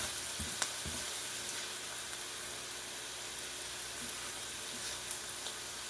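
Ground 80-20 hamburger frying in a pan while making unstuffed bell peppers, a steady low sizzle with a few brief stirring knocks near the start and soft clinks later, no talk over it.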